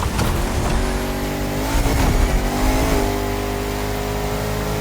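A race car in The Crew Motorfest, played with a steering wheel, holds a loud engine note through a turn, its revs rising and shifting with a hint of tire squeal over a constant engine drone.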